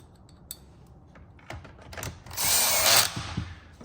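Power tool driving the back suspension bolts into a Stihl 661 chainsaw handlebar assembly during a Faller's suspension kit install, a short whirring burst after several light clicks and taps, close and fairly loud, with no talking.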